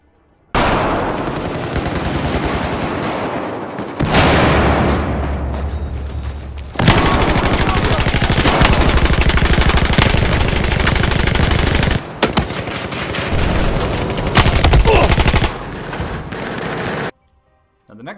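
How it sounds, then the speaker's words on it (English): Full automatic machine gun fire in a video game, long loud sustained bursts of rapid shots with brief gaps between them, up close. "But if you just go full automatic, this thing is everywhere."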